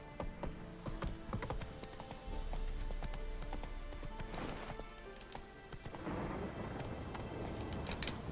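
Roach gallops in Witcher 3, hooves drumming in a fast, steady clip-clop close by, layered over game ambience and music throughout.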